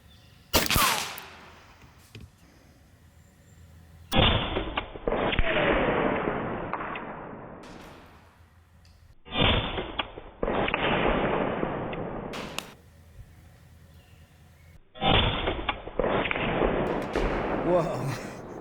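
A Western Airguns Mordax PCP carbine fires full auto in three sustained bursts of rapid, loud, close cracks, separated by short pauses, with voices talking in between.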